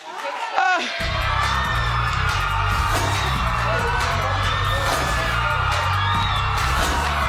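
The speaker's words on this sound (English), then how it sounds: "Why are you all screaming at me?" A studio audience at a daytime talk show screaming, yelling and whooping, a loud, dense and continuous crowd roar that starts abruptly after a brief pause and keeps going throughout.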